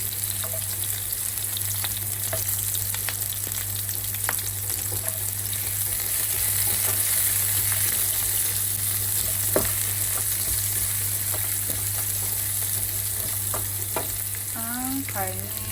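Garlic and onion sautéing in hot oil for kare-kare, a steady close sizzle with occasional stirring clinks and scrapes running throughout, alone with no talk.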